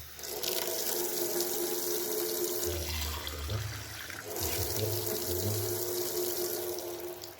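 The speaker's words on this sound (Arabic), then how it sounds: "غندورو هكا باش يخرج لينا الماء من هنا" Water runs steadily from a small home water filter with a cotton filtering element, a continuous splashing flow that shifts in pitch partway through, close and fairly loud.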